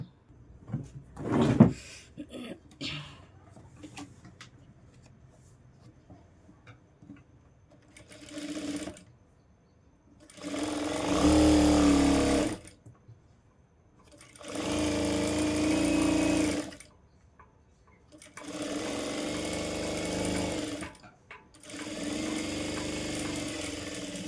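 A sewing machine stitches the neckline of a designer blouse in four steady bursts of rapid mechanical whirring, separated by pauses and preceded by a few clicks as the fabric is positioned.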